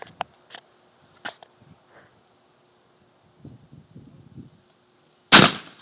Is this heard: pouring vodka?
no